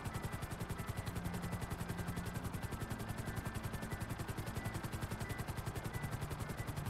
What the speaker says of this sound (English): Ja, wie kann ich denn jetzt den Heli hier behalten?